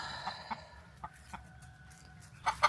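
A chicken clucks in short, scattered bursts at a farm feeding spot, fairly faint over low background noise, with a couple of sharper calls near the end.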